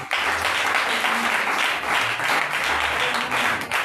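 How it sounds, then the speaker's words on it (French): Loud, sustained applause from a church congregation cheering for a woman at a Sunday morning service, many hands clapping continuously with low murmuring voices underneath. "On va acclamer très fort pour elle."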